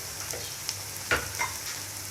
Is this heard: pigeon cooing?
no